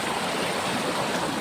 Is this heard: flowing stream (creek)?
yes